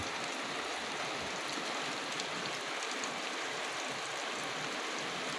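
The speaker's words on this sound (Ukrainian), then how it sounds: "знову йде дощ" Steady rain falls outdoors as a dense, even hiss with no distinct drops or pauses, holding at a constant moderate level throughout.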